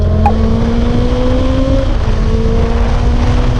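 A Honda CB650F 600cc motorcycle with a loud aftermarket exhaust hums steadily at close range, its tone easing down slightly partway through over a constant rumble.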